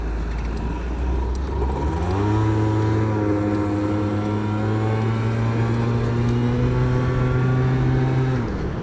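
A Yamaha BWS 100 scooter fitted with a Malossi 125cc kit revs up, its engine whine climbing to a loud, steady high-pitched drone held for several seconds before easing off, close by with no talking.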